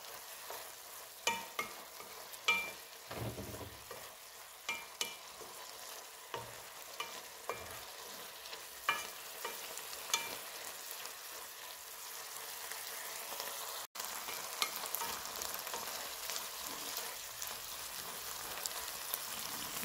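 Meat tibs seasoned with salt and black pepper frying in a pan, a steady soft sizzle with regular scraping and clacking stirs every second or two, close and alone with no talk.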